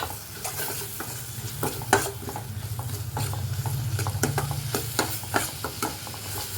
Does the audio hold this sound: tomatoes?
yes